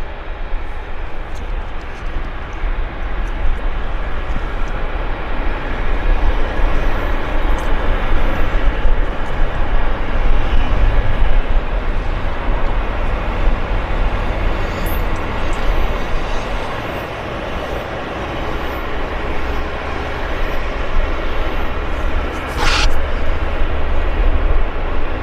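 Jet airliners, a Boeing 777 and 787, at Vancouver Airport, heard as a steady, fairly loud engine rumble and broad roar that holds for the whole stretch without any voices.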